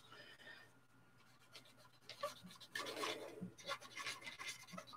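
A cotton bud soaked in isopropyl alcohol rubs over a plastic scale-model side panel, giving quiet, close scratchy strokes that grow busier in the second half.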